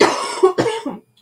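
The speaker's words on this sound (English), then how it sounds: "my apologies for hacking and coughing" A woman's harsh, hacking cough, two or three close, loud bursts in quick succession, then silence.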